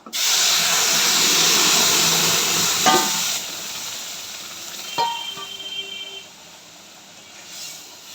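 Chana dal hits hot oil already seasoned with dried chili powder for a vegetarian dal, giving a loud, steady sizzle and hiss that drops off after about three seconds, with a few clinks of stirring and a quieter sizzle trailing behind.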